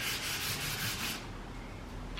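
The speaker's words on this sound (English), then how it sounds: "So we're going to start with some sanding now. We've got some 800 grit and we'll just get started." Car primer on a Toyota Supra being sanded with 800 grit sandpaper: a steady, close rubbing scrape with a quick back-and-forth rhythm that stops partway through.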